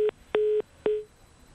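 Telephone line tones sound after a call disconnects: three short, evenly spaced electronic beeps of steady pitch, clear and alone on the line, then quiet.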